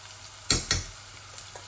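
Onions frying in a pan for a pabda fish curry give two quick, close sizzling scrapes, then fade to a faint background hiss.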